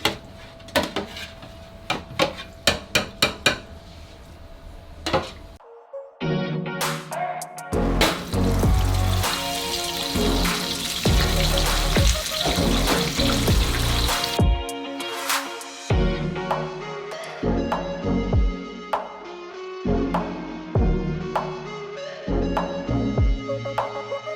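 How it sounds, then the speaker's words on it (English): Flour-coated chicken going into a deep fat fryer: a loud, steady hiss of sizzling oil dominates the middle, framed by clattering knocks of kitchen utensils and containers before and after, with no talking. "after this coating of flour, it's into the deep fat fryer"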